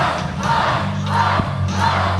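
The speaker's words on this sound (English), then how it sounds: "Beastman rallying this crowd with a war cry" A wrestling show crowd roars in a sustained war cry as a wrestler rallies them, a dense, loud wall of voices swelling in waves throughout.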